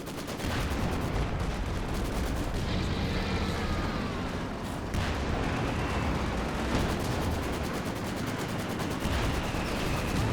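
A siege barrage in Company of Heroes 2 pounds away as dense, continuous battle noise of heavy artillery blasts and rattling gunfire, loud and sustained throughout with no voices.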